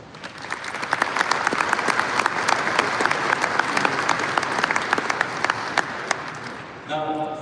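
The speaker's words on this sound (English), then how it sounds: "Big applause to all of you." A conference audience at Cisco Live in Amsterdam gives a sustained round of applause, with many sharp individual claps over a steady wash that fades at the end as a voice begins speaking.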